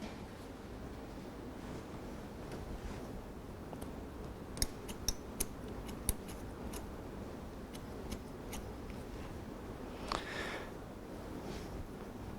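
Scissors snipping hair at a salon while layering a cut: a few sharp, quiet metallic snips in a short irregular burst, then one more later, over a low steady room hum.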